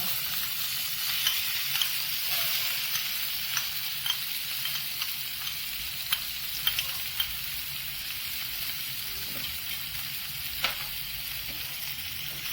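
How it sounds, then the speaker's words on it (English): Onions hiss and crackle in a hot pan of browned cumin seeds for a stuffed cauliflower dish, a steady close sizzle with occasional light scrapes of stirring. "See, now you can see that the zeera has become brown. So I'm going to add the onions now."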